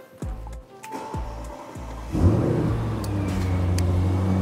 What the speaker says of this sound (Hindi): अगर मैं इसको स्टार्ट करता हूँ तो इसकी साउंड से ही आपको आइडिया हो जाएगा कि ये गाड़ी बहुत यूनिक है।